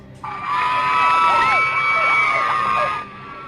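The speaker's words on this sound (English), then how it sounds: "You could hear the crowd cheering as he was taken away." A crowd cheers and whoops loudly as a convicted man is led away after sentencing, a sustained burst of raised voices lasting about three seconds before cutting off.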